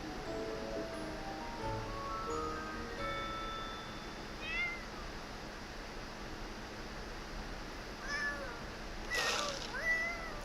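A cat in The Sims 4 meows a few times, short game-voiced calls against a soft, steady background hiss, with a brighter burst near the end.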